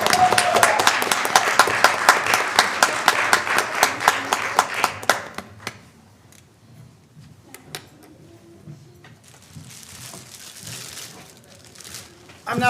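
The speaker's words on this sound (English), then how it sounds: "One more big round of applause." A school board meeting audience gives a round of applause during fall sports awards, rhythmic, close clapping at first that thins out after about five seconds into scattered claps and quiet room noise.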